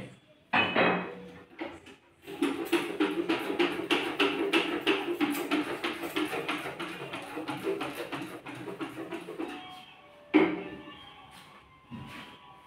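Dishes and utensils being cleared up and tidied in a home kitchen, with a steady run of clinks, clatters and taps of pots, plates and cutlery, close by and moderately loud, pausing briefly before and after.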